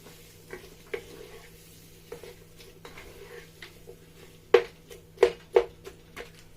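Vegetables stirred into tomato sauce in a pot for jollof rice, sparse soft scrapes and light taps of a spoon against the pot, a few sharper knocks near the end, faint and close.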